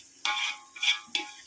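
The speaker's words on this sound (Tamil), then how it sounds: "இது ஒரு 5 நிமிஷம் அப்படியே வதங்கட்டும்." Biryani masala with yogurt being stirred in hot oil, giving three short bursts of scraping and sizzling close by, separated by brief quiet gaps.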